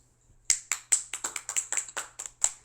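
Sparse applause from a small group at a Navy officer commissioning, a dozen or so crisp, separate claps at an uneven rhythm starting after a brief quiet moment.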